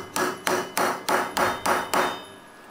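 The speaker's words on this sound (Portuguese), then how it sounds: "a gente faz o furo dessa forma usando o martelo" A hammer strikes a 4 mm hole punch seven times in a steady rhythm, each blow a sharp, close metallic tap with a short ring that fades before the next, no voices.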